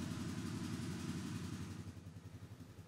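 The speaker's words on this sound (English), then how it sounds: "Start the engine and allow it to warm up at idle for 2 to 3 minutes." A Polaris Ranger 570 mid-size utility vehicle engine idles steadily while warming up, a continuous low, even chugging rumble heard up close and alone.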